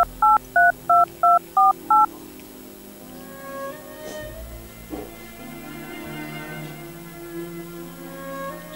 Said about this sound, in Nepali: बरु म फोन गर्छु।